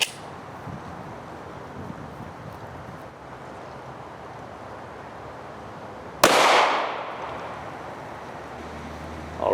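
Single sharp gunshot of a .40 S&W Winchester 180 grain full metal jacket round fired into polycarbonate outdoors, a loud crack after quiet wind noise, followed by a decaying echo.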